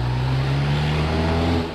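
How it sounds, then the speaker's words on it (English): Cars drive along a road beside a forest near the former villa of Yugoslavia's president, a loud, steady engine and tyre rumble close by with a slowly shifting drone, as vehicles pass without pause. "there are a bunch of cars"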